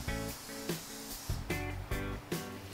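Spray can of sandable primer applied to an interior trim piece: short hissing bursts repeat roughly every half second, fairly close and moderately loud, with no talking over them.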